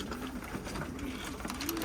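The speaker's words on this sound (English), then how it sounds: "we got most of the birds" Pigeons coo at a loft, a soft repeated low rolling coo heard three times amid steady outdoor noise and background bustle.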